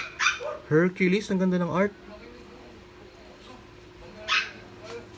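Dogs bark in a quick burst of several sharp yelps early on, then one more bark later, heard under and between someone talking indoors while unboxing trading cards.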